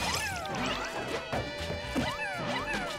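Olimar's forward smash attacks in a Super Smash Bros. tournament match, repeated crashing hit impacts layered over dense game music and effects throughout, with no talking.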